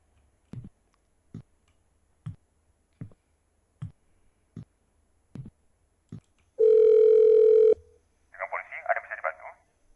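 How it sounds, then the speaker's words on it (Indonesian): A telephone is dialled to call the police in the horror game Harmony of Fear: eight evenly spaced clicks, then a loud steady tone, then a warbling ring, all close and clear. "Karina, ibu akan telepon polisi dan kita bisa pulang."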